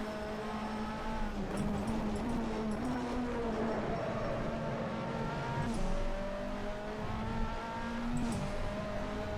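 British Touring Car Championship race cars in rFactor 2 rev hard in a drag race to the line, a steady, loud engine drone with rising and falling pitch sweeps as gears change, several cars blending together.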